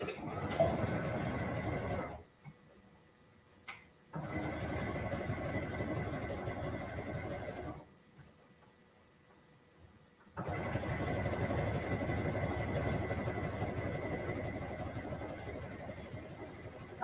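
Sewing machine stitching a wearable blanket, running in steady bursts with two quiet pauses between runs, moderately close and fairly soft; faint talk in the background.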